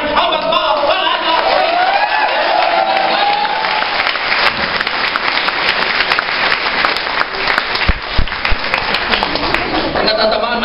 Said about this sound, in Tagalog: Pag natatamaan, malakas ang palakpak talaga.